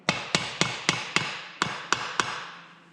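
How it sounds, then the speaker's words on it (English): Rubber mallet gently tapping a part on a 1965 BSA motorcycle engine to break its seal, eight close, light knocks in an uneven rhythm, each with a short ring, heard alone. "Just tap around very gently to break the seal."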